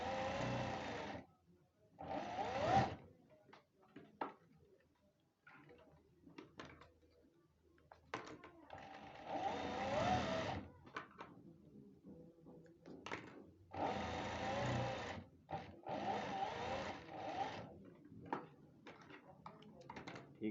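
A sewing machine stitches the round neckline of a kameez in several short bursts of whirring, separated by quiet pauses with small handling clicks.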